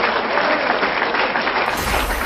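Applause-like clapping crackles steadily for a couple of seconds, loud and dense, following an MVP win in a Mobile Legends match.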